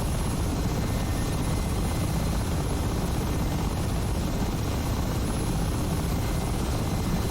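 Mi-8 helicopter engine and rotor in the DCS flight simulator, a steady loud broadband whine and thrum that runs unbroken from start to finish with no talking.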